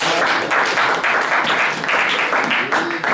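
A church congregation breaks into loud, continuous applause, a thick wash of clapping that holds steady throughout, with possible cheering mixed in.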